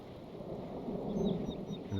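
Rain and thunder at dusk in Medieval 2, a steady hiss of rainfall with a low rolling rumble building underneath, quiet and brief with no voices.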